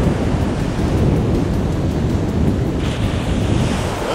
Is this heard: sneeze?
no